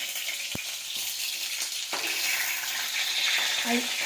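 Bitter gourd (hagal kai) fries in oil in a covered pan, making a continuous bright sizzle with a few faint knocks and clicks, close and steady, with no talking.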